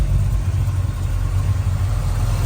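A 1970 Ford Mustang engine idles loudly and steadily up close, with a deep, even low thumping rumble and no voices.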